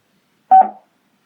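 A Smalody SL 10s Bluetooth speaker sounds one short, loud electronic pairing chime, a brief bright tone that quickly fades into silence.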